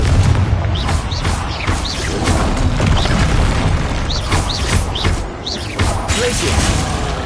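Confringo blasting spells go off in Hogwarts Legacy as a dense, continuous roar of booming explosions and crackling whooshes, loud and close, with no clear gaps between blasts.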